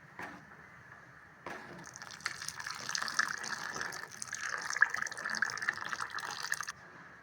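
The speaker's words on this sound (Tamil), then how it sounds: "தேவையான அளவுக்கு தண்ணி ஊற்றிக்கலாம்" Water gushes steadily into a pot of tamarind fish curry for several seconds, a loud splashing pour that begins abruptly and cuts off sharply, over faint background hum.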